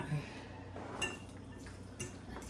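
Two forks tossing rotisserie chicken guacamole in a bowl, scooping from the bottom, giving soft clinks and scrapes of metal on the dish at a steady, unhurried pace, close and fairly quiet.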